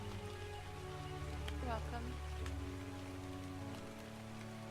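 Steady rain falls in the video game ARK, a constant dense patter under a low droning background, with a brief rising tone midway and no talking.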